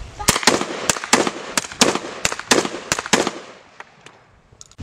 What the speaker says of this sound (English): Today we're going to be using a 22 and a 12 gauge.